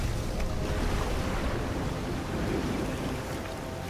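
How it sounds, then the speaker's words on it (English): Heavy rain and storm noise from the film Percy Jackson and the Lightning Thief, a dense steady roar of pouring water and rumble that fills the whole stretch with no talking. "It's raining, it's pouring."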